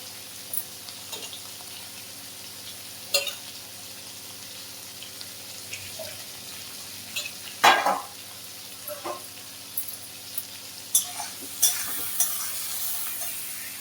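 Potato, eggplant, pumpkin and greens stirring and frying with shrimp in a home kitchen, a steady quiet sizzle broken by scattered scrapes and clatters of a utensil in the pan.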